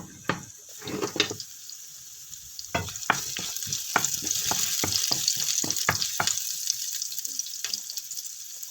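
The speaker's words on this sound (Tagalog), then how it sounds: "nagbuhos naman ako ng mantika, konting mantika. Naglagay naman ako ng onions." Chopped onions fry in a little oil in a pan for a chopsuey sauce, a steady close sizzle under a run of sharp spatula clicks and scrapes against the pan, with no voices.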